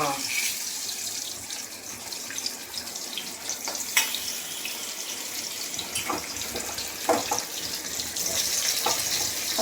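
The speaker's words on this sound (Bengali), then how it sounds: "আর এদিকে আমি মাছ ভাজছি।" Fish rubbed with salt and turmeric frying in a pan, a faint steady sizzle with occasional crackles and clinks, with a soft voice now and then in the background.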